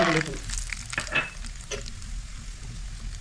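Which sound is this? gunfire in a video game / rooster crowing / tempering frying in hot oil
tempering frying in hot oil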